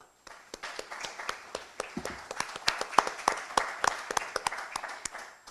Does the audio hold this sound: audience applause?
yes